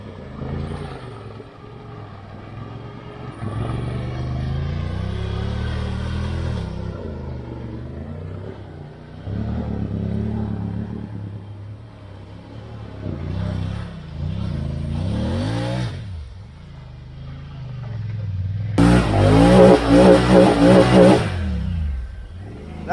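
A Honda Talon 1000X side-by-side on 38-inch tires and 8-inch portals revs hard while burying itself in dirt, its engine rising and falling in repeated surges, loud and close, with a harsh wheel-spinning burst near the end.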